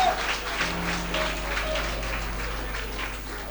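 A church congregation applauds and acclaims the Lord after prayer, a steady wash of clapping mixed with faint voices and a low sustained hum throughout.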